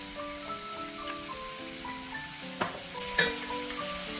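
Beef frying in sesame oil in a pan with pepper and soup soy sauce, a quiet steady sizzle with a few soft clinks of stirring, no voices.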